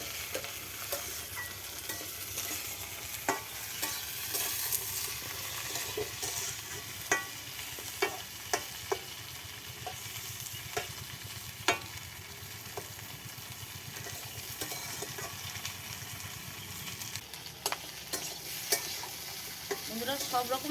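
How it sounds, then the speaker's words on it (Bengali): Mixed colourful vegetables, including eggplant, fry in hot oil while being stirred, giving a steady close sizzle broken by frequent scraping clicks of the spatula against the pan. "সমস্ত রঙিন সবজিগুলো আমি তেলে ভেজে নিচ্ছি।"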